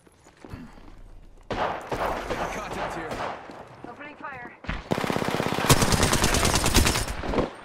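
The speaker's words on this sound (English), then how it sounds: "Opening fire." Rapid automatic gunfire in a first-person shooter game, with bursts of machine-gun fire and single shots breaking out over ambient game sound and a voice talking, growing into a dense, loud stream of shots near the end.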